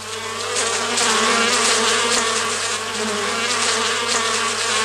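A bee buzzes steadily and close by around an aconite flower, a Chinese relative of the Alpine aconite, its hum continuous and loud for the whole stretch with slight swells in pitch.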